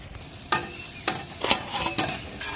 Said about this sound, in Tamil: அடுத்தா நம்ம கருவேப்பிலை போட்டுக்கிறோம்.